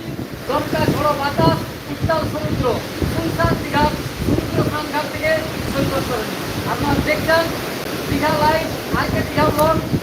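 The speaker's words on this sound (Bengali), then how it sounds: "এই মুহূর্তে প্রবল গতিবেগে চলছে বাতাস" Someone talks continuously over strong, blustery wind buffeting the microphone and the steady rush of sea waves on Old Digha beach during rain.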